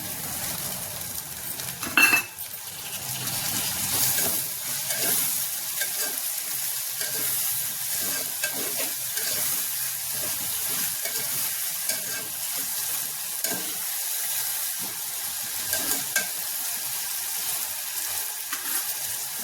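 Tomatoes and brinjal, with dried fish, are stirred and fried in a pan in Andhra style, giving a continuous sizzle broken by scraping stir strokes and a brief clatter early on.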